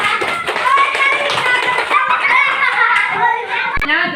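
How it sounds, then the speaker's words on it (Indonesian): A primary school class claps for a group after its presentation, a loud, dense patter of many small hands with children's voices chattering over it throughout. "Berikan tepuk tangan untuk kelompok 2."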